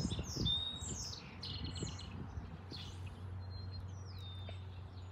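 Sparrow chirping outdoors, a series of short bright tweets and squawky calls scattered over a low steady background hum, moderately near and fairly quiet.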